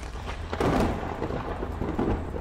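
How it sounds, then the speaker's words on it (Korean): A heavy thunder clap rolls through an audio drama, a loud rumbling roar that swells near the start and lingers with crackling, rain-like texture. "그 순간 하늘의 섬광과 천지를 뒤흔드는 천둥 소리가 중대장의 당황스러운 표정과 함께 쏟아져 내렸다"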